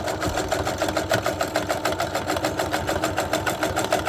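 A sewing machine fitted with a thick leather or denim needle stitches hair for a wig, running in a fast, even mechanical chatter that stays steady and close throughout.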